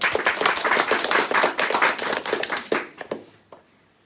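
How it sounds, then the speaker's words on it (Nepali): A church congregation claps together in a dense burst of many hands, loud and close, before the applause thins into a few scattered claps and fades out. "आफ्नो लागि ताली बजाइदिनुहोस्"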